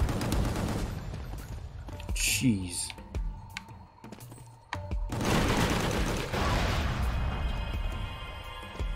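Hand cannon gunfire in the video game Gungrave GORE comes as loud bursts of shots and booms with dense clattering blasts, while someone talks briefly.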